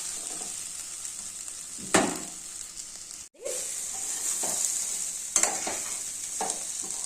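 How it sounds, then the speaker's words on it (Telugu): Chickpeas with freshly grated coconut stirred in a hot pan, a continuous gentle sizzle with a few louder scraping strokes and a brief dropout partway through, close up and without voices. "పచ్చి కొబ్బరి వేసాం కదండి మళ్ళీ కలుపుకోవాలి ఇది అంతా"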